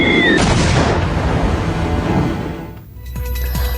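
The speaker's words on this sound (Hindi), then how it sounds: "तुर्की और अजरबैजान ने आर्मेनिया की सेना पर आसमान से इतना बारूद दागा है कि कोहराम मच गया" Artillery shelling in war footage, Turkish and Azerbaijani fire on Armenian army positions, a dense continuous roar of blasts and rumbling booms, loud and close, easing briefly before further sharp reports.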